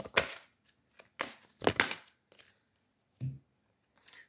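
A tarot card drawn from a deck gives a few soft, brief papery rustles and snaps, spread unevenly with quiet gaps, close by and fairly faint.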